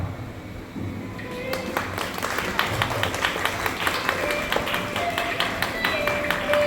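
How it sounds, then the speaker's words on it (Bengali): An audience applauds after a stage performance. The clapping begins as scattered claps, swells into dense, steady applause that keeps building, and carries a low murmur of voices underneath. "আপনাদের করতালি দিয়ে আমাদের এই অনুষ্ঠানটিকে আমাদের সাফল্যের জন্য করতালি দিয়েছেন"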